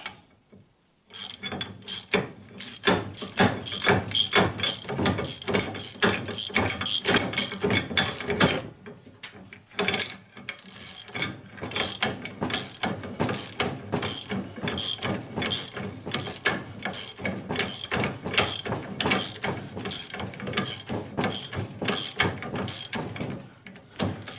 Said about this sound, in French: Alors j'y mets son écrou. Alors c'est un écrou qui est de clé de 29.